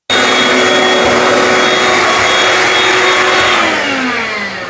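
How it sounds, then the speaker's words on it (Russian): A vacuum cleaner sucking up dust while a bathtub folding shower screen is being fitted, running loud and close with a steady whine from start to end, easing off slightly near the finish. "лучше всю эту пыль пылесосом оттуда высосать"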